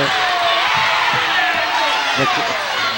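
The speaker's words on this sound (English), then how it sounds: "the crowd is going crazy as they look" Basketball crowd roaring loudly and steadily after a foul at a girls' high school playoff semifinal game, with cheers, whoops and sneaker squeaks over constant broadcast commentary.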